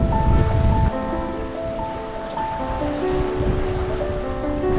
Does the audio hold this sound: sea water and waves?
yes